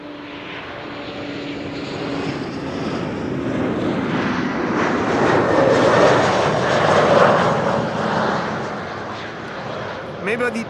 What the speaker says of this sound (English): This is KLM flight 1076 arriving from Bristol, an Embraer 190, followed by an Embraer 175.